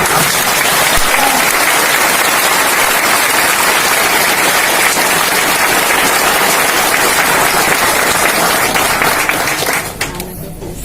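An audience at a business product seminar in a cinema hall claps in dense, sustained applause for around nine seconds, loud and near, before it thins and stops.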